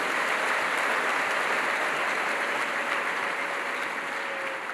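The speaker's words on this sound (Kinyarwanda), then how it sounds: "Dukomere amashyi menshi Imana mu mwanya nk'uyu." Church congregation applauding together at a pastor's service, a steady dense wash of clapping that holds evenly throughout at full strength.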